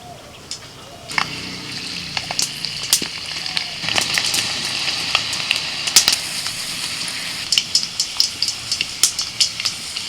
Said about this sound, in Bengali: আট দশটা রসুনের কোয়া ওই তেলের মধ্যেই ভেজে নিচ্ছি